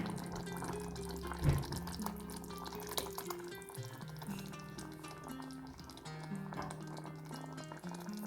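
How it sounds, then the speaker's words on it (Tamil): Tamarind water poured into a simmering red pumpkin and cowpea kara kulambu gives a soft, low liquid splash and gurgle, quiet and steady, over a faint tonal background. "அடுத்தது புளி கரைச்சி ரெடியாக வச்சுருக்கேன் அதையும் ஊற்றிடலாம்"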